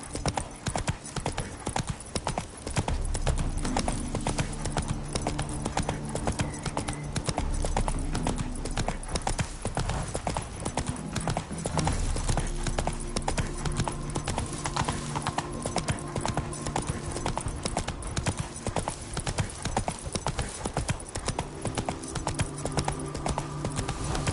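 Geralt's horse Roach gallops in the video game The Witcher 3: Hearts of Stone, a constant drumming of hooves close and loud throughout, layered over sustained game music.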